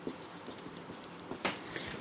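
Faint, close scratching and light tapping of writing on a board during a maths lesson on limits of polynomials, soft irregular strokes with a slightly stronger stroke near the middle and no speech.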